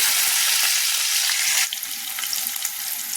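Chopped onion and bay leaf hit hot oil in a pan, producing a loud, close, steady sizzle that eases slightly partway through without fading out.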